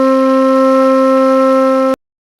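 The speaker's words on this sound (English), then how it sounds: "this is a flute recorded 24-bit" A sampled flute note recorded at 24-bit, 69 kHz and played back in a RoCoder live stream, holding one steady, bright tone for about two seconds before it stops abruptly at its loop point, leaving near silence.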